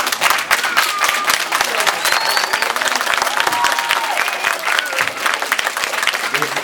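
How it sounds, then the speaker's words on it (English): A crowd at a Lakewood Board of Education meeting claps loudly and continuously, with scattered shouts and voices mixed into the applause. "we couldn't hear you over the clapping"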